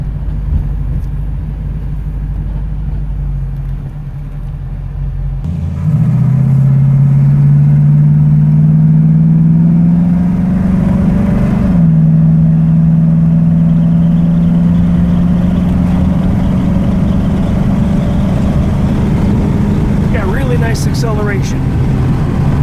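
A 1934 Chevrolet all-steel touring car with a rising engine note as it accelerates while driving, a steady loud drone climbing in pitch over road noise, with a brief shift midway before pulling on.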